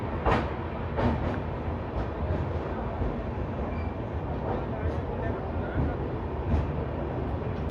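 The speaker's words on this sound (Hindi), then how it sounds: "ये सामने देखिए पतालकोट एक्सप्रेस फिरोजपुर सिवनी" Patalkot Express standing at Bathinda station under a steady low rumble, with faint clanks and a few distant sharp clicks throughout and no clear passing.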